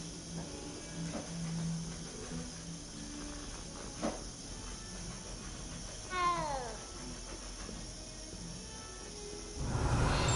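A cat meowing in the Hogwarts video game, a single drawn-out mew rising and falling in pitch midway through, heard over a faint ambient game backdrop, followed near the end by a louder rushing swell.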